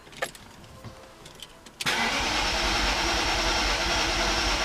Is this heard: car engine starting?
yes